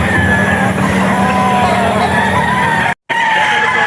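Chickens and roosters at a poultry and pet market in Bocaue, crowing and clucking loudly and continuously, with a brief drop in sound near the end.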